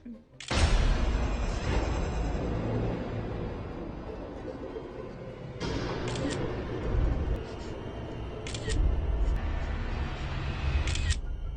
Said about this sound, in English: She takes a picture to see if Selfie Man is here and if he's getting closer to her